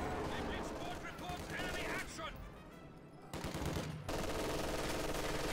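Bursts of MG42 machine gun fire in Company of Heroes 2, rapid rattling volleys interrupted by brief pauses, loud and close, overlapping with other in-game battle sounds.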